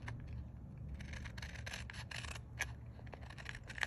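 A layered paper craft tag being trimmed, giving a quiet, continuous rasping and rubbing of paper cuts with small scraping bursts throughout, no talking.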